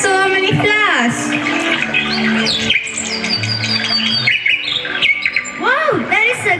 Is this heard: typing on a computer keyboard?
no